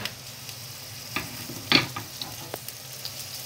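Mutton and onion frying in a pot for haleem, giving a low steady sizzle with a few sharp clicks and scrapes of stirring, close and fairly quiet.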